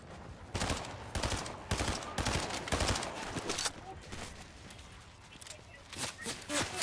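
Fortnite gunfire comes in a rapid string of sharp shots in the first half, then thins to a few scattered bursts near the end, with a player's voice talking over them.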